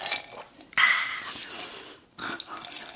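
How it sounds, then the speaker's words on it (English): Drink poured over ice at a table during a sushi meal, a near, bright splashing pour that starts abruptly, pauses, then resumes with clinking and trickling. "I forgot to pour my drink."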